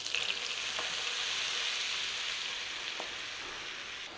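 Flour cooking in butter in a pan for bacon gravy, a steady soft sizzle and fry close by with faint stirring scrapes, alone without speech.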